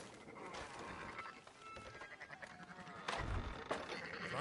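Sheep bleating in the video game Red Dead Redemption 2, a few quiet wavering calls over low ambient outdoor game sound, with a scuffle of movement toward the end.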